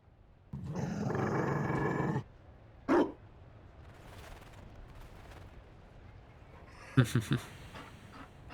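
A Mabari war dog in Dragon Age Inquisition gives a loud, rough growl lasting a couple of seconds, then a short bark and a burst of quick barks later, over quiet game ambience.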